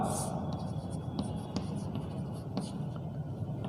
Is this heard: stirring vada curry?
no